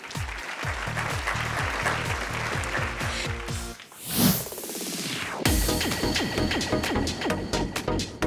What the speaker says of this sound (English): A big round of applause for all of them, please.